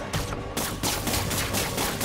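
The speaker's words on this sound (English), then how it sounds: "Watch out for gunfire." Rapid bursts of gunfire in Marvel's Spider-Man: Miles Morales combat crackle continuously, dense and loud, with overlapping shots throughout.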